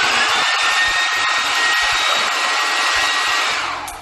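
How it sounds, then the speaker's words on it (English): A blow dryer runs at full power, a loud steady whooshing roar with a high motor whine that holds for about four seconds before easing off at the end. "when they come in and they turn the blow dryer on"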